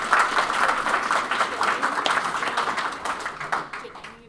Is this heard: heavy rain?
no